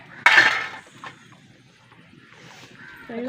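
A pot of thickened curry lifted off the stove, one sharp metallic clank of the pot followed by quieter kitchen rustling and faint movement.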